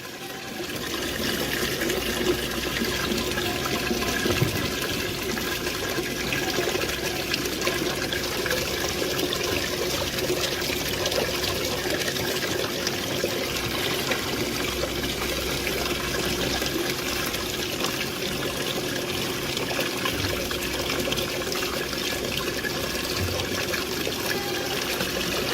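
Molasses being poured into a container of water while preparing goat feed, a continuous trickling, splashing liquid sound that stays steady and close for about twenty-five seconds.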